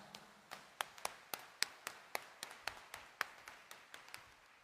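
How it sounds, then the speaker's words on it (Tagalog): A church congregation at a homily for Jesus Nazareno claps with raised hands, sharp claps in a slow, fairly regular rhythm, about three per second, faint and distant in a reverberant hall with no talk. "Itaas nga ang kamay at pumalakpak ng mas malakas."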